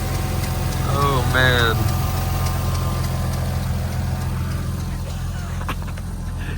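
The engine of an abandoned Toyota Supra Turbo, newly revived, idles with a steady low rumble. A man briefly exclaims over it.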